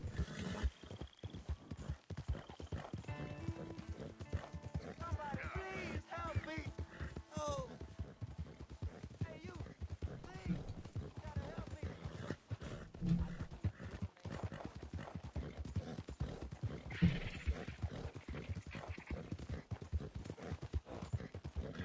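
Rapid hoofbeats clip-clop at a gallop, with a horse whinnying near the start, set against an ambient soundscape in the video game Red Dead Redemption 2.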